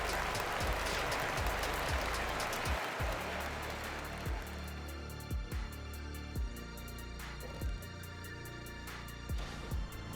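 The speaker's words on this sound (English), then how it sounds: "Listen to this crowd right now." Arena crowd in the basketball video game NBA 2K24 cheers loudly at first, then the roar fades into a quieter murmur, with repeated dull thuds of a ball bouncing on the court.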